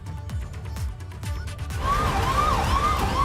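An ambulance siren wails loudly and close by in a convoy taking a prisoner from Banda to Lucknow, its rising and falling tone starting after some engine and traffic noise.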